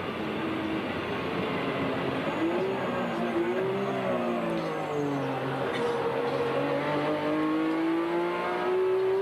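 Onboard at Bathurst's Mount Panorama, the Winfield Nissan #1 race car's engine drones loudly and steadily, its pitch sweeping up and down through gear changes under a constant roar of wind and road noise.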